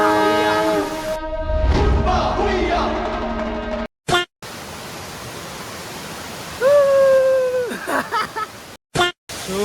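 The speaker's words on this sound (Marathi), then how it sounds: "तर आम्ही दुसऱ्या धबधब्यावर आलो" A waterfall in Konkan, Maharashtra, a steady broadband roar that cuts in and out in abrupt segments, with a voice and a brief tonal horn-like sound over the rushing water.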